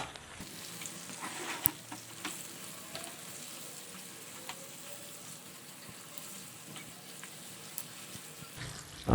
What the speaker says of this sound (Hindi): अब हमने ऐसे इसको हिलाता रहेंगे ताकि ये अच्छी तरह पक जाए, आलू भी नरम हो जाए।